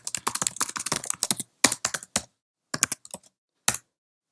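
Close, crisp keystrokes on a computer keyboard come in a fast flurry, then slow to scattered taps with gaps of silence between them.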